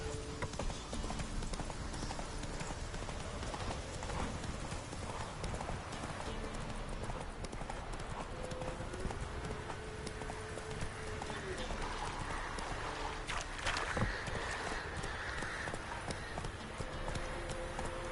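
Horse hooves clip-clop at a steady gallop across open ground in The Witcher 3: Wild Hunt, continuous and fairly loud, with occasional whinnies, game music and a voice speaking over it.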